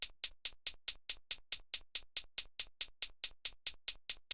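Repeating trap hi-hat sample in a steady even pulse of about five hits per second, each bright and crisp, ending in a small click, heard alone with no talk.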